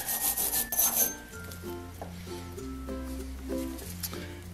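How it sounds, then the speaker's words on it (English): A fine stainless steel wire brush scrubs gunk off the threads of a blow torch pump part in short, rasping strokes. The scrubbing is loudest in the first second, then continues softer over a steady tonal background. "This little fine stainless brush is not very aggressive, but then again, I don't want to be aggressive on these threads."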